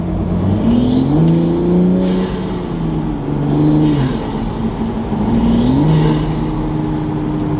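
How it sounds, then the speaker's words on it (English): A Toyota A90 Supra with a cold air intake pulls away under slow acceleration, its turbo engine droning up and down through several throttle lifts, each one followed by a brief airy blow-off flutter. "you can hear that blow off noise"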